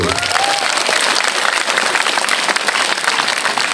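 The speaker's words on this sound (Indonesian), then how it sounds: "Tepuk tanganlah dulu." Loud, dense applause from a large crowd at a madrasah, steady and sustained throughout with no talking over it.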